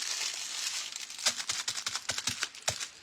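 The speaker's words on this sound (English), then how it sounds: "And again, crumple it up." Craft foil is crumpled by hand in a quiet room, a faint rustle followed by a run of sharp crinkling crackles in quick irregular bursts, close to the microphone with no talking.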